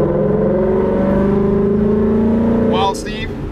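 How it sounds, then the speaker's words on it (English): A modified Mustang GT launches hard after a clutch kick, its loud, close engine note climbing steadily in pitch for about three seconds before easing off and shifting. "Clutch kick it, floor it."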